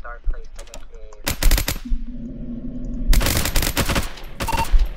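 Gunfire in a Roblox SCP task force game comes in several loud, rapid automatic bursts separated by brief pauses, close and sharp.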